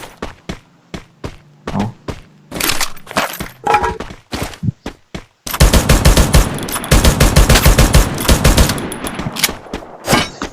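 Gunfire from the mobile battle-royale game Free Fire: separate sharp shots at first, then a dense, loud automatic burst lasting several seconds before single cracks resume, with no talking.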